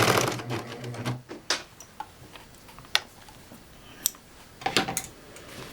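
A serger sews off the end of a channel on a pillow, giving a short burst of whirring stitching at the start, followed by scattered clicks and light handling taps.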